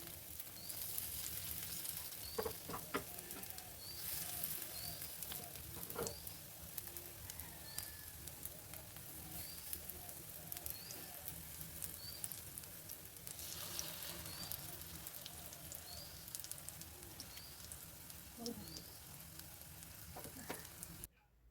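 Oats batter poured onto a hot tawa pan sizzles and crackles steadily, a quiet, continuous frying hiss with scattered pops and a few scraping stirs, close up with no talking.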